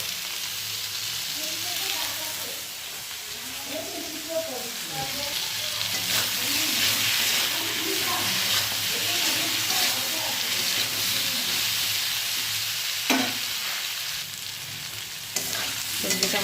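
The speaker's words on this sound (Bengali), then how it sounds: "সবজিটা মোটামুটি একটু ভাজা হয়ে এসছে" Vegetables frying and being stirred in a pan for a fish curry with data stalks and potatoes, with a steady close sizzle and scraping stir strokes throughout, no talk.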